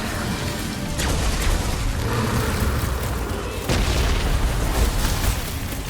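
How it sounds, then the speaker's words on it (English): Bomb explosions in the Guardians of the Galaxy video game, a dense battle din of repeated booms and bursts layered over a constant roar, loud and close throughout with no talk. "What's those bombs? I'm not about to get blown up!"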